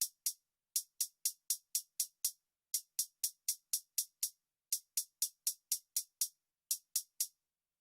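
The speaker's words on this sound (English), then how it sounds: "the hi-hats are actually very simple. They just sound like this." Crisp trap hi-hats programmed in FL Studio tick in quick, even bursts with gaps where the clap would land, close and alone.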